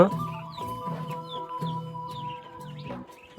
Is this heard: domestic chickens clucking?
yes